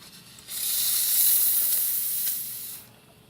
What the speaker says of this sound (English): And let's test the steam.